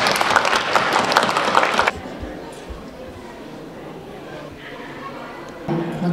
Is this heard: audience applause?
yes